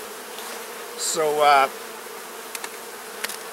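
Dense, steady hum of many bees in a crowded hive being inspected, with one short spoken word over the buzz midway and a few faint clicks afterward.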